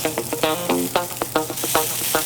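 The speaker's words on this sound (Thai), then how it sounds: "ใส่น้ำมันลงไปครับ ตามด้วยพริกแกงครับ ใช้เป็นพริกแกงคั่วครับ" Thai red curry paste sizzling in hot oil in a pan, crackling pops and spits over a steady hiss, close and fairly quiet, with no voices.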